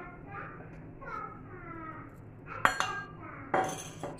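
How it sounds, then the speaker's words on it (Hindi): A spoon stirs spice masala into yogurt in a bowl, giving soft scraping and a few sharp clinks against the bowl, with a voice faintly in the background. "इस मसाले को मिक्स करेंगे, दही"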